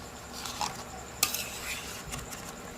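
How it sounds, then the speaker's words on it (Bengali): Meat being stirred in a cooking pot, soft scraping and clinks of a utensil against metal over a low sizzle, close and moderately quiet, with one sharper knock partway through and no speech. "দিয়ে মাংসটা একটু নেড়ে দিলাম।"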